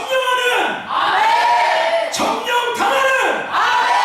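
A church congregation at a special prayer meeting lets out loud, sustained battle-cry shouts, several overlapping voices swelling together in repeated waves.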